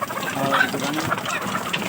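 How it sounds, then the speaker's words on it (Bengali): Fayoumi laying hens on a poultry farm cluck and murmur in a brief, close, busy chorus of short, overlapping calls. "আমাদের এইখানে হচ্ছে একদম রানিং ডিম পাড়া মুরগি"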